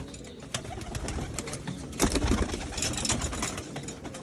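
Pigeons in a new cage coo softly beneath a steady wash of broadband background noise, with irregular rustling and flutter throughout and no talking.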